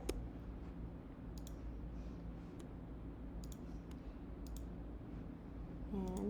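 A computer mouse clicks a handful of times at irregular intervals, each click short, sharp and faint over a steady low hum.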